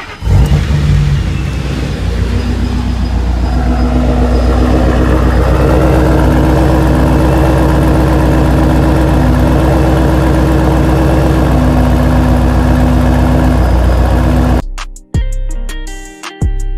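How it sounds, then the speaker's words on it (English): A Ford Mustang idling close up, a loud steady deep exhaust burble with a low rumbling tone held for about fourteen seconds before cutting off abruptly. "we can hear that beautiful exhaust note"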